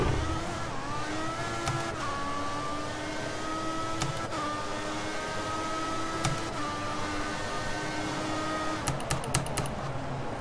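A Formula 1 car engine in F1 2014 whines loudly and steadily, with rising and falling gear-shift pitch sweeps and brief sharp clicks over several laps of continuous revving.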